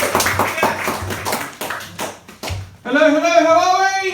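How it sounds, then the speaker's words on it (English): Studio audience at a comedy night in a Bournemouth pub venue breaks into clapping and cheering as the first comedian is welcomed to the stage, bursts of claps giving way to a loud sustained whoop. "Put your hands together and make some noise for your first act this evening"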